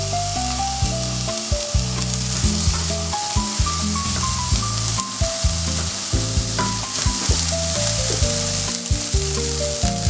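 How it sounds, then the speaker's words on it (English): Fresh garlic fries in a pan for tofu fried rice. A loud, steady sizzle runs throughout, broken by repeated stirring scrapes, with music playing underneath. "Next comes fresh garlic. Add it to the pan and cook until fragrant, letting all those flavors come together."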